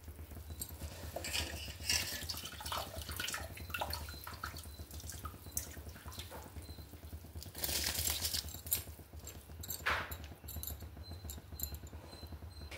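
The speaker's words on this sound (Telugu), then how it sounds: "ఇలా రైస్ మొత్తం యాడ్ చేస్తానండి" Rice for veg biryani is tipped into a pot of boiling water, giving soft splashes, bubbling and light scraping, quiet and close, with a couple of brighter splashy bursts.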